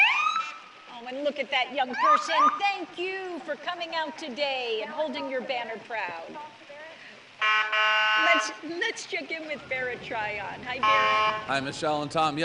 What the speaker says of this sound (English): the kids love to hang around to hear the siren and the horn